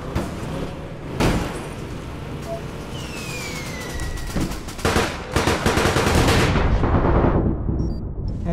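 Rapid bursts of gunfire from the online shooter game APB Reloaded, loud and dense with machine-gun rattles and a descending whistle, growing heavier toward the end.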